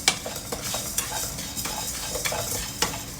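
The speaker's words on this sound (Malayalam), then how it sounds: "ഇനി ഇതൊന്ന് ചൂടാവുന്നവരെ ഇളക്കി കൊടുക്കാം" Rice with urad dal and chana dal dry roasting in a pan while being stirred, a dry rustling scrape with repeated light clinks of a utensil against the pan, close and steady, without talk.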